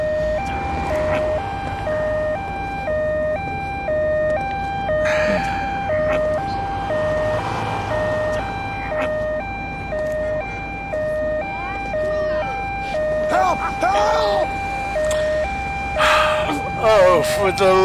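An ambulance siren wails in repeated rising and falling tones, loud and close, alongside talk and other passing sounds.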